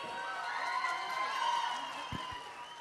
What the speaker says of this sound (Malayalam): ഇത്ര കയ്യടി മതിയാ? പോരാ പോരാ, ഒന്നും കൂടി.